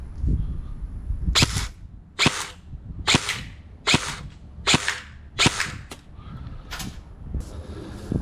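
Airsoft BBs striking a Novritsch AFU anti-fog mask at close range: about nine sharp, loud cracks spaced roughly a second apart, with no talking.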